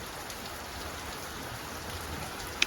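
Heavy monsoon rain that has kept falling without a break for two days makes a continuous, even hiss. It stays fairly soft, with one brief sharp drip near the end and no talking.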